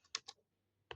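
A command typed on a computer keyboard: three quick key taps, a pause, then one firmer keystroke, close and quiet with no talking.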